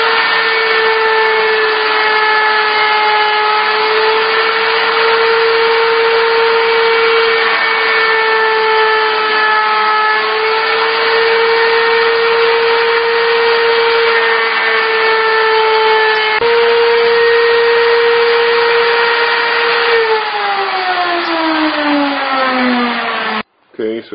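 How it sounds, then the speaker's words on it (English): A handheld router cuts a 45-degree edge on small H brackets held to a routing form with router tape, giving a steady loud whine that shifts pitch slightly and drops off at the end. "I'm just going to be sticking them to that and routing the 45 on that using my router tape"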